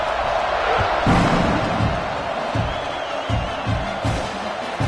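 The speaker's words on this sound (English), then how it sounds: "this crowd is buzzing after that last score" At a football game, the stadium crowd keeps up a loud, continuous roar with scattered cheers and whoops, while dull thumps pulse through beneath it.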